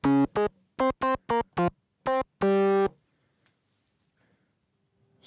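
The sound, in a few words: Korg monologue synthesizer patch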